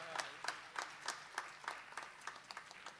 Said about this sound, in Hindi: तो एक बार तालियां हमारे मयूरेश शेरलेकर के लिए भी हो जाए